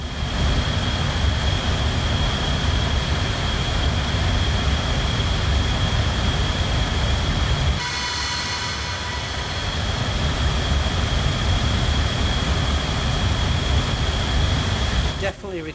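Steady jet engine roar from an Avro Vulcan bomber in Microsoft Flight Simulator, a loud continuous broadband rush with sustained high whine tones, briefly dipping midway before resuming at full strength.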